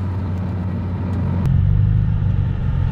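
A BMW M3 drives past with a steady, close, low engine rumble that holds at a constant level and deepens slightly partway through.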